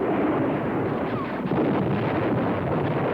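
A dense, constant roar of battle noise in a Pacific war fight, with explosions and gunfire blurred into one loud, continuous rumble and no separate shots standing out.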